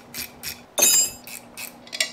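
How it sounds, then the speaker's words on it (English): Ratchet wrench turning a bolt during an engine, carburetor and clutch rebuild, giving a quick run of close, bright clicking bursts, roughly five of them, with one louder, longer grinding ratchet pass near the start. "I own ratchet wrenches. Maybe I should go get one."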